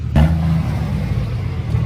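A lifted diesel truck revs with a deep, rumbling exhaust roar that starts abruptly and holds steady, close by.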